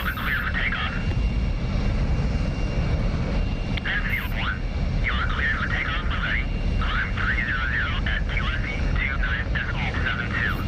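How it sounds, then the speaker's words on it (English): An F-22A Raptor jet in the DCS flight simulator runs up power and takes off, its steady loud engine roar continuous throughout, with warbling cockpit warning tones repeating over the top and a voice talking along. "Power's coming on."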